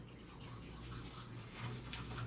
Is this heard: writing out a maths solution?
no